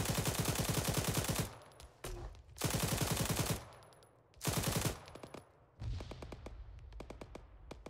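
In the Arma 3 military video game, rapid automatic gunfire comes in several loud sustained bursts, broken by short pauses and a few heavy thuds that could be underbarrel grenade launcher shots.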